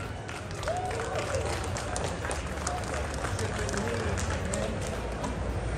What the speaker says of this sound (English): Let's go ahead and give a round of applause to Eric Stuart and Dan Green.